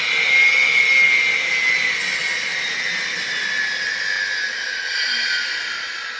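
Gas turbine sound from a GTEL 8500 N scale model locomotive, a whining, jet-like high tone with a broad rushing roar that gradually winds down and slides lower in pitch, heard alone.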